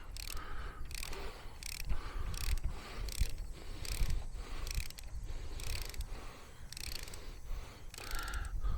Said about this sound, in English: now I can go to a ratchet